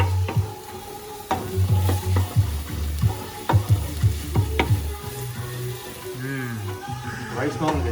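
Vegetables with garlic and ginger paste and tomatoes sautéing in a pan, a steady close sizzle with repeated scraping stirs and clinks of the utensil, while a voice talks over it.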